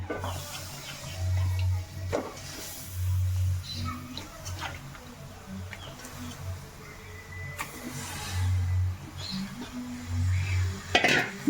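Washed chicken pieces go into masala in a cooking pan, with scattered clinks and scrapes of utensils against metal, low rumbling bursts and some sizzle, close by and without speech.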